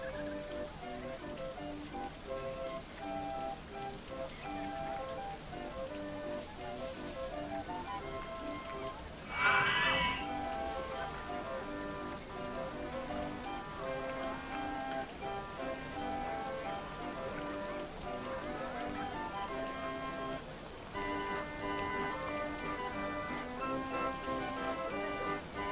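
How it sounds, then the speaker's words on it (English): Steady rain falls in the OpenRCT2 park game, a continuous hiss spread over a bed of game music, with one brief louder splash or burst partway through. "Here comes the rain."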